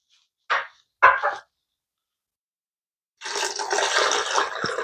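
Two short clunks come first, then after a pause water pours steadily into a blender for an eggplant sauce, a close, splashy rush that lasts to the end.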